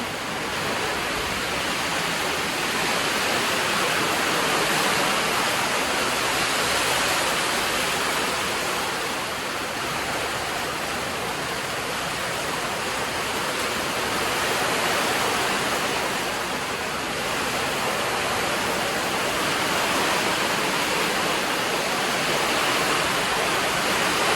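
Steady heavy rain pouring off a roof and splashing without pause, a dense broadband hiss that stays loud and even throughout.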